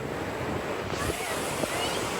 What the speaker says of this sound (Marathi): पानी देखो इतना बहता है, पानी जोर जोर से बहता है